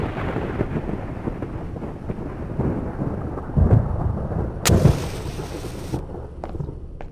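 Thunder cracks and rumbles in the horror video game White Day, with heavy low booms near the middle over steady rain-like noise, one sharp loud crack following, then the storm settling back.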